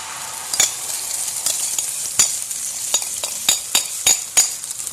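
Egg batter frying in oil on a hot tawa griddle, a steady loud sizzle punctuated by sharp spatters and occasional utensil scrapes.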